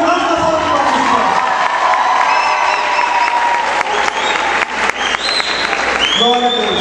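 Another round of enthusiastic applause sweeps through the crowd at a church youth congress in Lages, loud steady clapping with cheers and whoops, and voices talking and calling out above it.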